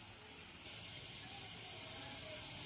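Gram flour boondi batter drops into hot oil and fries with a steady, soft hiss and sizzle that stays even and fairly quiet throughout, with no voices.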